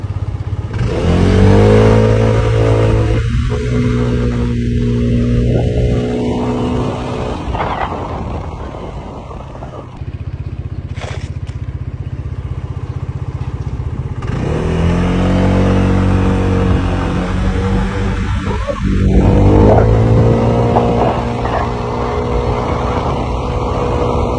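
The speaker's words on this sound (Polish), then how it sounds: "Jedziemy i teraz pokażę Wam jak on przyspiesza." A SYM Symphony 125 scooter engine accelerates uphill, revving up loudly in two long climbing pulls with rising pitch, dropping back between them, close and without talk.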